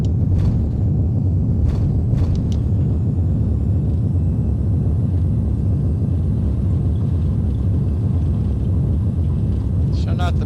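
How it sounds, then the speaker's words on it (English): JarDesign A320 airliner on landing rollout in X-Plane 10: a loud, steady roar and rumble of engines and wheels fills the cabin, with brief clicks and someone talking over the noise. "So not the best landing, but it did the job. We landed safely on the ground."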